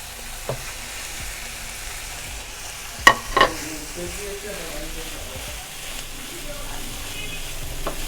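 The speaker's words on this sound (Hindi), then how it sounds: "अब इसके अंदर हम चिकन डालेंगे" Chicken frying with tikka masala paste in a pan, a steady moderate sizzle with a couple of sharp clanks from a utensil near the middle.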